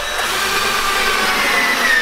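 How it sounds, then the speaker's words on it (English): Power drill boring pilot holes into willow branches while building a rustic willow chair, a steady continuous whine that runs loud and close for the whole stretch with no pauses. "straighten it out and pre-drill the other side."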